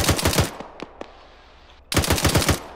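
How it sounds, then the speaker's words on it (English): Automatic gunfire in a military shooter game rattles in fast bursts, a long volley at the start, two sharp isolated shots in the middle, then another dense burst at the end, loud and close. "What are they fucking shooting at?"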